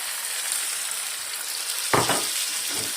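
Garlic mixture for menemen hits a hot pan with a sudden loud sizzle after a steady background of frying, then settles into a crackling hiss with a second burst of spattering near the end; no talking.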